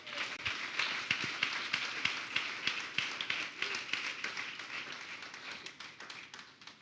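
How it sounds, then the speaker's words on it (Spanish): Congregation clapping during a Sunday church service, a fairly steady spread of hand claps at moderate distance that thins slightly toward the end, with no voices over it. "¿Cuántos dan un aplauso al Señor?"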